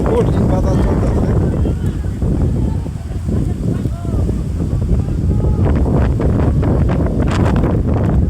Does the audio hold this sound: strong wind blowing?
yes